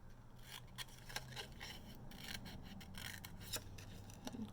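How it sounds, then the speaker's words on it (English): Scissors snip and slide through folded card to cut out a section for a pop-up card, making soft, quick rasping cuts in an irregular run, close but quiet, with no voices. "I'm going to cut just this section out right here"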